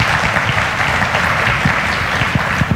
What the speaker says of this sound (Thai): แต่ยังไงก็ต้องขอเสียงปรบมือนะครับให้กับวิทยากรของเราทุกท่านครับ